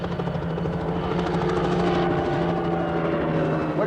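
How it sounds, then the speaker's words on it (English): Helicopters flying overhead during a 1968 Mauritius independence ceremony rehearsal, a loud, steady rotor drone with a throbbing low beat that persists throughout without pause. "I am here purely to see what effect the blast from these helicopters will have on the public on the day itself."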